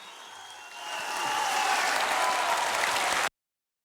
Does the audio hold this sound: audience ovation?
yes